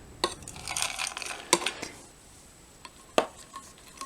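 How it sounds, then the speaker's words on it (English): Sultana raisins drop into a ration-pack curry in a container, making a few small, sharp taps and soft wet clatters close by, with quiet gaps between them. "So we will drown some raisins, sort of just this amount, here in our curry"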